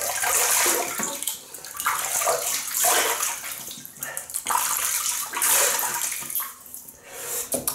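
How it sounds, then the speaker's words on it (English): Water runs steadily from a bathroom sink tap while a face is wetted before shaving, producing a continuous close splashing rush with shifting surges as hands move through the stream. "I'm just going to wet my face."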